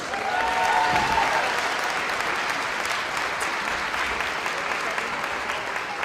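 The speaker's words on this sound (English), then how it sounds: "Can you get another round of applause?" An audience applauds a dance team's performance at a Strut For The Cure charity event, a broad, sustained wash of clapping from a large crowd, even and moderately loud, with a faint whistle early on.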